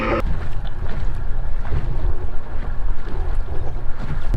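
A small motor drives an inflatable kayak across open water against the wind, its steady drone running the whole time beneath heavy wind buffeting on the microphone and water wash.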